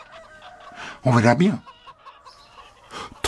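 Chickens clucking in a rural French henhouse, a burst of loud squawking and cackling in the middle with softer clucks around it, while someone speaks briefly nearby.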